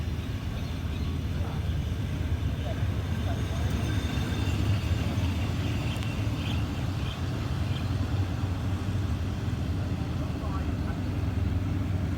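A GEA diesel locomotive hauling a passenger train departs a Thai station, rumbling steadily with a low engine drone and rolling noise, a few faint squeaks above it, continuous throughout.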